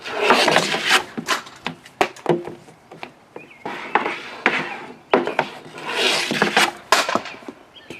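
Repeated scraping and knocking of a field hockey stick working a puck back and forth on a hard surface, with sharp clacks between rasping sweeps.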